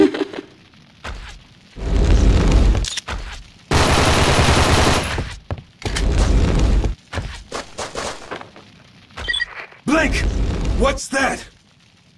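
Gunfire from The 3rd Birthday PSP video game, loud bursts of rapid shooting and booms in irregular clusters separated by short gaps, with voices speaking between and over the volleys.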